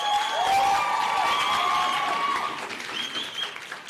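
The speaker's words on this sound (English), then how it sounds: "Let's just give him another round of applause." An audience at a learner leadership summit applauds with a dense, sustained patter of clapping and some cheering whistles, loud at first and easing slightly toward the end.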